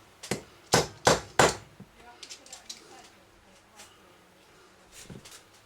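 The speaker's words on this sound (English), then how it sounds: "just tap that down with the hammer" A hammer taps a part on a Garrard SP25 Mk4 record turntable: four sharp, close knocks in quick succession, then quieter scattered clicks and handling noises.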